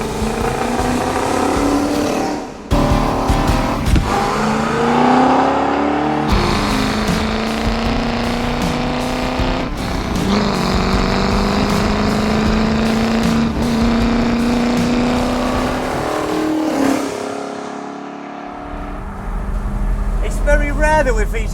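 A 1967 Shelby Mustang GT500 known as Eleanor being driven, its engine loud and close, revving and droning through repeated gear changes with rising pitch and sharp shifts, while voices talk over it.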